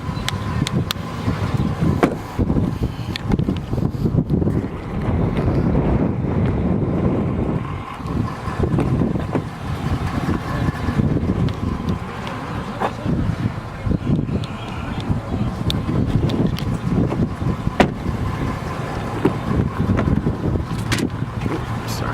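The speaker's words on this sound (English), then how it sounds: "It's so windy out here today." Heavy, continuous wind buffets the microphone with a roaring rumble that lasts throughout, with occasional gusts and faint knocks.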